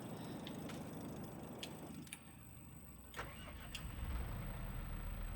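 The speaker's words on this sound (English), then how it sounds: "Our first proper tractor, let's say. First cab tractor. And of all things, it's a John Deere 6120." A John Deere 6120 cab tractor with 90 horsepower in the Farming Simulator 22 video game holds a steady engine drone with a few faint clicks and knocks over it, rising slightly toward the end.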